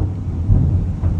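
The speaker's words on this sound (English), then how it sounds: "Raining, oh my god, and thundering and lightning." Loud thunder rumbles through a heavy rainstorm in Da Nang, Vietnam, a deep sustained roll that swells midway and again near the end, with no voices.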